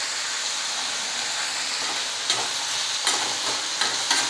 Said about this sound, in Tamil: எல்லாம் சேர்த்து கொஞ்சம் நேரம் வதங்கட்டும்.